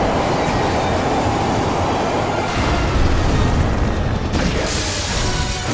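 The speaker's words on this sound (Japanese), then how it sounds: "いやまず電車止めろよ" Train running in Resident Evil 6, with a loud continuous rumble of rolling wheels and rail noise, a high metallic squeal rising partway through and a heavy thud near the end.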